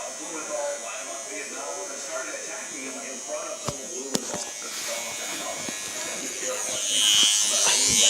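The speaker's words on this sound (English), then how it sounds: "They got the toothbrush." An electric toothbrush buzzes steadily at close range for several seconds while people talk over it in a home with a big black cat nearby.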